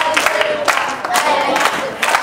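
Children cheer and clap as a group at a televised kids' club show, bursts of shouting and applause rising in waves through the short stretch, fairly close and loud.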